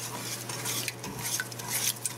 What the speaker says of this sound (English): And start stirring it on high heat.